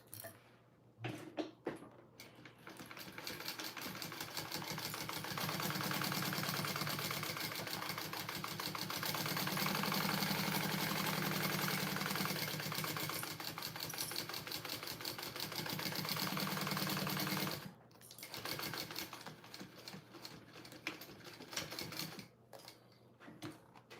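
A sewing machine stitches a long, steady basting run through the fabric pieces of a small backpack, loud and continuous for about fifteen seconds, with a few short start-and-stop bursts before and after.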